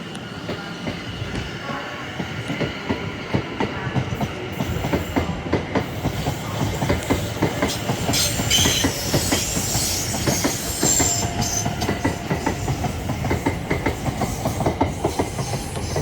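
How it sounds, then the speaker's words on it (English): Class 701 electric trains pull away from Clapham Junction, one bound for London Waterloo and another for Windsor and Eton Riverside; steady wheel rumble and clickety-clack rolls throughout, loud and close, with brief squeal, no talk. "701011 now heads off for London Waterloo as 701001 heads off for Winslow and Eton Riverside"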